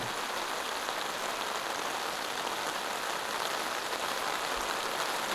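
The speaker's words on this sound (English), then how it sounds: "And the rain is pouring right now." Heavy rain pours steadily over a disc golf course, a dense, even hiss of water filling the space without pause, close and constant, with no voices.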